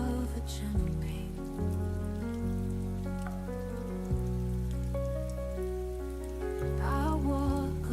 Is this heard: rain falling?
yes